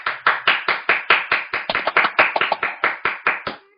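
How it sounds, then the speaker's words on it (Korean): Clapping in a lecture hall before a talk begins: about fifteen crisp, evenly spaced claps in a steady rhythm, close and fairly loud, then stopping abruptly with no voices. "그럼 크게 박수 한 번만 이렇게 주시고 시작해 보겠습니다."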